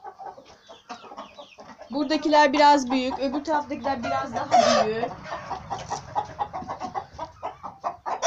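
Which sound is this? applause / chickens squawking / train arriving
chickens squawking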